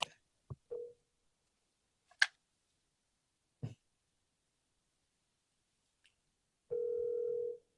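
A telephone line rings out unanswered, with a single steady ring tone near the end after a few scattered clicks and knocks, heard alone without talk.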